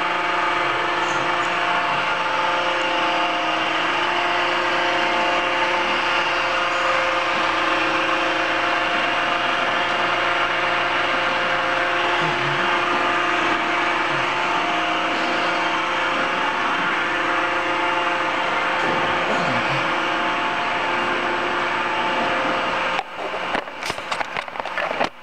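A spinning quick-change spindle on a used Giddings & Lewis 3-inch 300T horizontal boring machine gives a steady, loud machine whine and hum, with faint clatter near the end.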